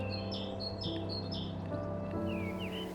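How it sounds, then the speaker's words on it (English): Several birds sing outdoors in high, repeated chirps and short whistled phrases, some clustered in quick bursts, over a soft, steady background hum. "The sound of the birds."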